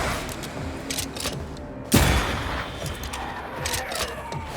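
A single loud gunshot boom from a corpse enemy in Banishers: Ghosts of New Eden, abrupt and close, set against a busy background of combat ambience with a faint follow-up rumble.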